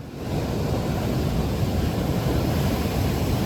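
Ocean waves on a rising tide rush in, making a loud, steady, broadband roar close by with no pauses and no voices.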